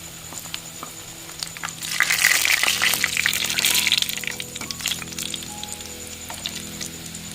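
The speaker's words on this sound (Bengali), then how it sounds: "কড়াইতে তেল গরম হয়ে গেছে এবার এগুলোকে আমি ভেজে নেব" Palm-fruit kachori frying in hot oil in a wok: a bubbling sizzle that swells after a couple of seconds and keeps going steadily, close and fairly loud, with no voices.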